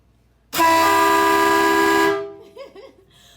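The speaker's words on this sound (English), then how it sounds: "we've got a set of air horns mounted in the front on the forward of the belly pan." A loud, steady blast of front-mounted air horns on a 1965 GMC Handi-bus holds for about one and a half seconds, then cuts off, followed by faint murmuring voices.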